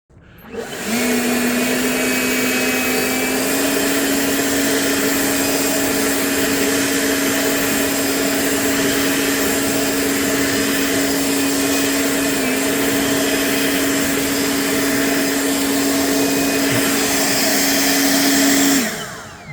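An EGO LBX1000 battery-powered leaf blower clears snow from a sidewalk, a loud, steady electric whine and airy rush held nearly unbroken for about twenty seconds before cutting off.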